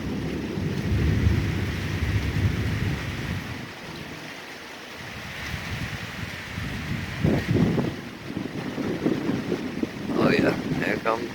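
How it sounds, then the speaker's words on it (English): Strong, gusty wind buffets the microphone during a thunderstorm, a loud continuous roar that swells and dips, with a voice talking over it near the end. "The wind keeps changing directions."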